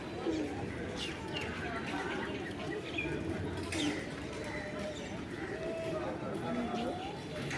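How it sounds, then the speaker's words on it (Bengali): Pigeons coo now and then in the distance over a steady outdoor murmur at a temple beside a pond, with faint chirps and muffled voices mixed in. "অনেক কবুতর"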